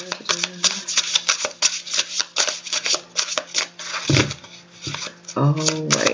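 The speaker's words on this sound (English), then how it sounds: "Shuffling these really good because I want to get some new exciting cards." Tarot cards riffled and shuffled in quick repeated bursts, close up, with a voice speaking briefly in between.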